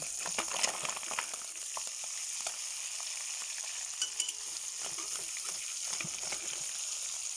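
Fish frying in hot oil in an iron wok as the pieces are turned, a steady soft sizzle with a few light scrapes and clicks, fairly quiet and with no voices.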